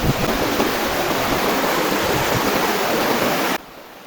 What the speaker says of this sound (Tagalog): Sa aming maliit na ilog.